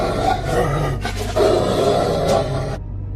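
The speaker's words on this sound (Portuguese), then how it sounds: "Rosnados selvagens," A dog growls savagely during a fight inside a house, a loud, continuous rumbling snarl with harsh grunting swells that runs for about three seconds before cutting off abruptly.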